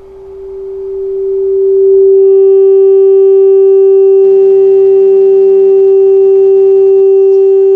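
A loud, steady pure sine test tone at line level swells in and holds, with harsher buzzy overtones creeping in partway through as the wave begins to square off and distort.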